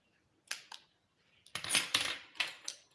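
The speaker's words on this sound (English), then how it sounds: "then I can cut my yarn" Scissors snip through crochet yarn in a few sharp, close clicks, two brief cuts followed by a longer burst of snipping and rustling, fairly quiet.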